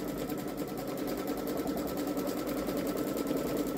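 A Babylock Solaris Journey sewing machine stitches an edge-to-edge quilting pattern, giving a steady, fast mechanical whir with rapid needle chatter, close and continuous throughout with no talking.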